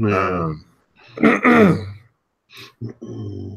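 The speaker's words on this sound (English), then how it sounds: "I like to mute whenever I clear my throat and stuff" A person clears their throat close to the microphone, a couple of rough guttural rasps, with a short bit of speech before them.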